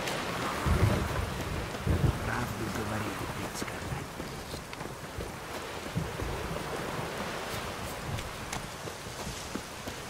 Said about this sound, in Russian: Дождь идет, возьми плащ.